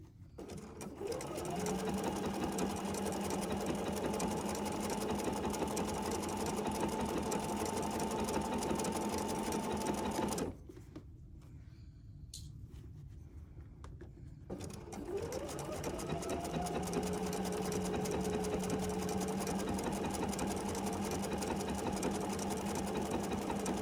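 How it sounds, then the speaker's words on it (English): A sewing machine stitches across a small fabric mitten in two long steady runs separated by a short pause, its motor humming loud and close. "we'll stitch across here and our little mitten will be all done"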